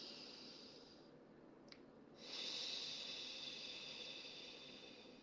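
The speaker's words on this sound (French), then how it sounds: "vous allez prendre une respiration très profonde, très lente" Slow, deep breathing, a soft airy inhale, a brief pause, then a longer, louder exhale, close and quiet, as a calming relaxation exercise.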